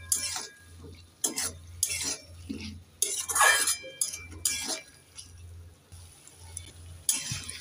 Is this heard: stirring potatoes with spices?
yes